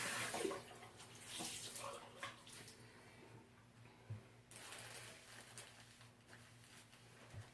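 Warm water running steadily while skin around a new stoma is washed clean with gauze during a convex ostomy pouch change, a soft continuous trickle with light scrubbing and handling noises close by.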